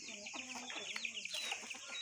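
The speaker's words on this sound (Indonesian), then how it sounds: "Loba ayam." Chickens cluck and squawk close by in a village on a quiet morning, a steady run of short overlapping calls from several birds, with faint chirps around them.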